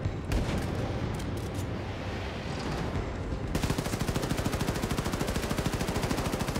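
Rockets launching in the video game Wolfenstein II: The New Colossus, a loud continuous roar that becomes a rapid, steady pulsing barrage partway through.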